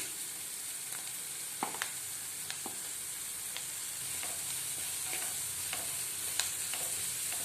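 Onion with crushed ginger and garlic sautéing in a pan for pav bhaji, giving a steady bright sizzle close up, with occasional light stirring taps and scrapes scattered throughout.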